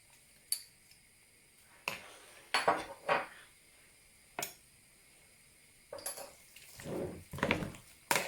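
Utensil clinking and scraping against a metal pot while stirring home-canned tomatoes, heard as sparse, sharp knocks and short scrapes with quiet gaps between them, growing busier toward the end.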